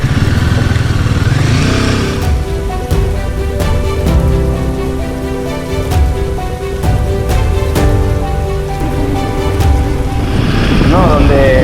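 A motorcycle rides a gravel back road on Chile's Carretera Austral between Puerto Aysén and Coyhaique, its engine droning steadily close up with wind rush and stones crackling under the tires throughout.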